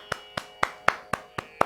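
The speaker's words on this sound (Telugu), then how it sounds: "క్లాప్స్." Seven sharp, evenly spaced hand claps ring out close and clear after a Telugu devotional song to Shiva, steady in rhythm with no talk over them.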